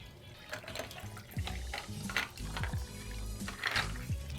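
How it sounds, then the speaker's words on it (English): Coffee is poured into a glass for iced coffee, a quiet, uneven liquid trickle and splash with a few gurgling bursts, fairly close. "Next, we're going to put our coffee in."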